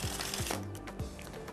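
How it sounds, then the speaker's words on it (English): Playing cards are riffle shuffled by hand during a shuffle tutorial, short quiet flurries of rapid card clicks repeating over little more than a second, close to the mic. "Open all the fingers and they will start shuffling."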